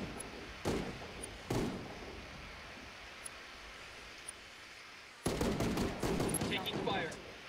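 Enemy gunfire in the video game Ghost Recon Wildlands, scattered single shots early, then a denser burst of rapid fire near the end, with a voice talking now and then.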